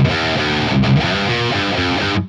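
Electric guitar playing through the lower-left speaker cabinet, a dull, very dark tone with little top end; a few loud, distorted chords ring continuously for about two seconds, then stop abruptly, with no talking.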